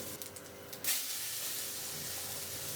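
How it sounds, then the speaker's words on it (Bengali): Potatoes frying in hot oil with a black cumin tempering, a steady broad sizzle and hiss that rises sharply after a brief quieter start, then holds loud and even. "এখন ভেজে নেবো আলু, দিয়ে দেবো শুধু একটু কালো জিরা ফোড়ন"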